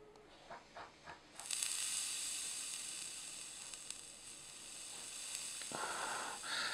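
A Vaptio Soar T-120 120-watt temperature-control vape box, its coil sizzling and crackling steadily as it makes vapour after a few soft clicks, the sound fading as the cotton dries.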